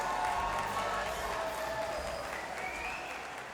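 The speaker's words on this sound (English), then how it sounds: "let's give both of these fighters a big round of applause." A crowd at a Shamrock FC fight event applauds and cheers both fighters, a distant, fairly soft wash of clapping and crowd noise that fades slightly toward the end.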